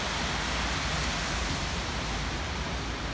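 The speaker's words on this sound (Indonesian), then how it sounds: "Masih hujan dari 3 hari sudah berlalu, masih terus hujan ya." Steady, dense rain pours down in Hong Kong during Typhoon Lionrock, a continuous broadband wash with no breaks, close and even throughout.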